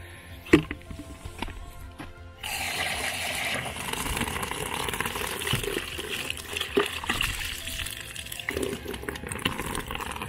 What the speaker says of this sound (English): So let's just first rinse this bucket.